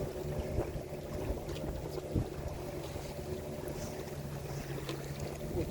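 A sailboat underway on a river on a fine sunny day gives a steady low rush of water and wind along the hull, with faint creaks and soft knocks scattered through, and no talking.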